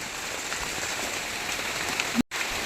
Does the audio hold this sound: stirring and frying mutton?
no